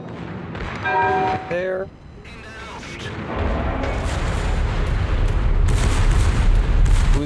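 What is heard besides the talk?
warship guns firing in a warship video game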